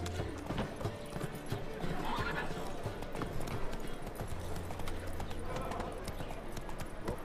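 Geralt's horse Roach in The Witcher 3 trots with steady clip-clop hoofbeats and an occasional whinny, fairly quiet under game ambience with voices speaking.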